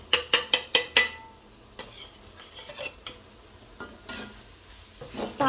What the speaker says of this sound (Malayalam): പാൽപ്പൊടി ഇട്ടതിന് ശേഷം നമ്മൾ നല്ലപോലെ ഇളക്കി കൊടുക്കുന്നുണ്ട്.